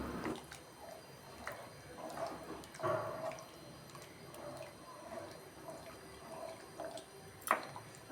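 Water poured from glasses into rice in a pot for veg brinji, about twice as much water as rice, giving soft, close splashing and trickling with small drips, fairly quiet, with no talking.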